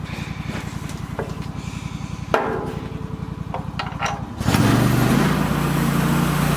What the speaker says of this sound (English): You got Jerry milling in the background.